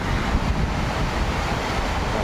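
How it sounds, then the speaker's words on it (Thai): Strong wind roars steadily and loudly into the microphone, a dense, unbroken rushing noise with no voices. "ลมแรง ลมแรง"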